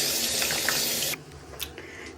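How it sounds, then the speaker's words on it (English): Water runs from a tap over hands at a sink, a steady splashing stream that cuts off abruptly partway, followed by a few faint drips and handling sounds. "Now I gotta wash my hands."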